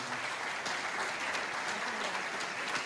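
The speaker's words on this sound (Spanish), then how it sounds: "Le brindamos un fuerte aplauso a la doctora Belén Bolaños Martínez." Conference audience applause for a speaker at a lecture on electronic bracelets for early release, a steady, moderately loud patter of many hands throughout.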